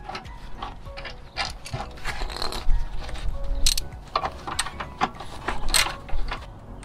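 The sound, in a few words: tightening rusty bolt on radiator assembly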